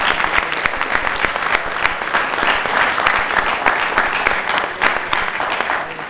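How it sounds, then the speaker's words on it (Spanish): An auditorium audience applauds together, a thick, steady wash of clapping from many hands that holds at an even level and eases slightly toward the end. "quiero primero pedirles un aplauso para ustedes."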